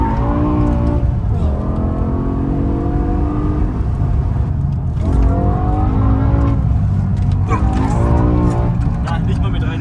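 BMW M6 with its V10 engine, loud and close, revving in repeated rising sweeps that climb and fall several times through the clip, with strained engine drone throughout.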